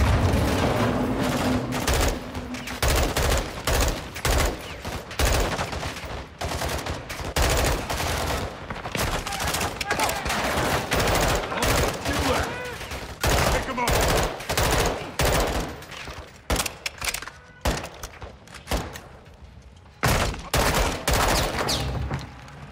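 Dense gunfire from Call of Duty: Modern Warfare 2 fills the scene, with rapid automatic bursts and single shots cracking loudly and almost constantly, along with battlefield noise and occasional shouted voices.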